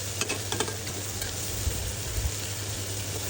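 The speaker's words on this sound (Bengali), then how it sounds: "এই তো মাছটাকে আমি ভেজে নিচ্ছি।" Fish frying in hot oil in a pan, a steady close sizzle with a few faint clicks and knocks of a utensil.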